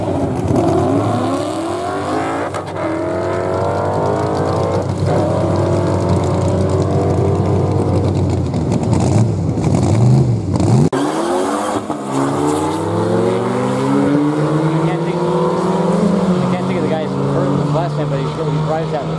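Race cars launch and accelerate hard at Barona Drag Strip, an eighth-mile track, engines rising in pitch through gear changes, loud and continuous, with a second engine sweeping past midway and a faint squeal of tires.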